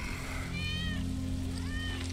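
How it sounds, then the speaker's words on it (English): A cat meowing in Final Fantasy 7 Remake, two drawn-out rising-and-falling meows a moment apart over a steady low game hum. "That's Wedge's cat."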